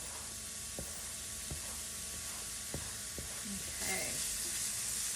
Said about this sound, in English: then I'm going to add the mushrooms to the pan